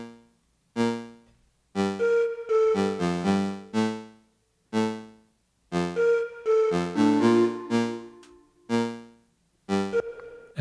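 A Drift synthesizer melody layered with a sampled flute instrument, short plucked-sounding notes in a bouncy rhythmic phrase with clear gaps between hits, loud and close with no talking.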